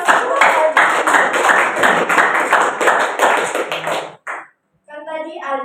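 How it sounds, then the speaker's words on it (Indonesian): A classroom of students claps in a dense, lively burst of applause for about four seconds, then it stops abruptly and a brief voice follows. "berikan aplaus"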